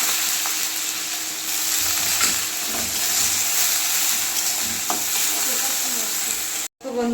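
Onions hitting hot oil in a wok give a steady, close, hissing sizzle that holds nearly unbroken, with a brief dropout just before the end.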